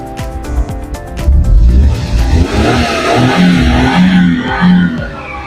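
A Suzuki DA63 4x4 pickup with a canopy revs hard through its exhaust, the engine note swelling and holding loud and close in repeated surges.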